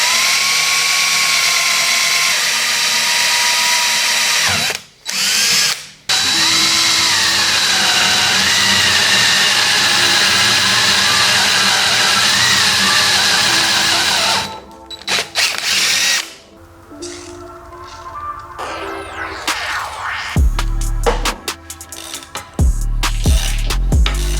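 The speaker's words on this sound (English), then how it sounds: "get that drilled and tapped for the Toyota sensor" A power drill bores and taps a metal flange for a Toyota sensor, giving a loud, sustained whining hum with two brief pauses, then stuttering, uneven grinding and clanks toward the end.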